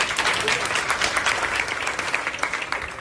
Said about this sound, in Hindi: ताली बजाओ उसके लिए